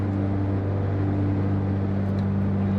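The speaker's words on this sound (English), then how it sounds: "the engines are so loud in this plane" Twin engines of a Cessna 404 Titan in the FSX flight simulator, a loud, steady droning hum with strong low tones that holds unchanged throughout, filling the cockpit.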